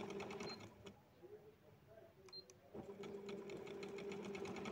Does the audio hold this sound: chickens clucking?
no